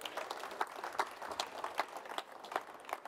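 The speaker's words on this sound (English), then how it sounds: "Ladies and gentlemen, round of applause please for Nick Perchard." A room of people applauds for a guest speaker at a Premier League Primary Stars event, a steady, fairly faint patter of many hands clapping for about three seconds with no talk over it.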